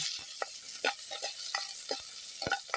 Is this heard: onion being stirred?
yes